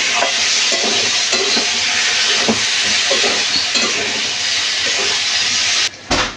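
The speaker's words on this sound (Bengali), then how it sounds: "আলুগুলো দিয়ে ভালো করে কষিয়ে নেব।" Fried potatoes sizzle loudly as they are stir-fried in an oily spice masala, with a continuous frying hiss and occasional scraping stirs, ending with a brief clatter.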